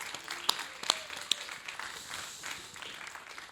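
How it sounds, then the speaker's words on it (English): An audience at an onstage conversation event applauds as two guests come up, with steady, fairly close clapping throughout and a few sharper individual claps standing out early on. "Would you give them a round of applause?"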